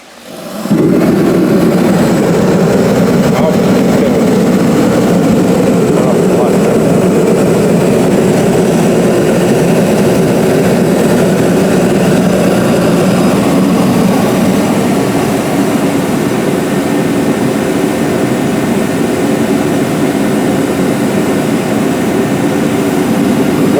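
A greenhouse heater roars steadily after being switched on, a loud, constant broadband blowing drone that holds unchanged throughout, with no voices.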